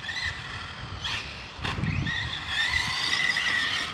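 An Arrma Senton RC car with a Gool 3670 2850kv motor on a 2S battery, geared with a 20t or 24t pinion, makes short high-pitched electric whines and tire scuffs as it speeds past at a moderate distance.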